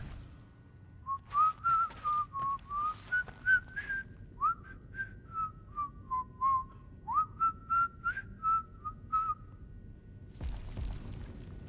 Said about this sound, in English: What are you listening? You're whistling, dude.